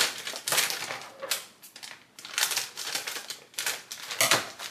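A plastic bag of mixed vegetables crinkles and rustles in bursts of handling, close and fairly quiet, with no talking.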